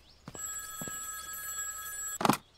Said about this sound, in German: hier ist auch irgendwie ein Telefon